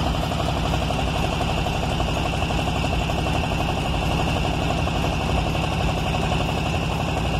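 Volkswagen Beetle engine idling just after starting, a steady, close rumbling drone with an even pulsing beat that continues without a break for the whole stretch, with no speech over it.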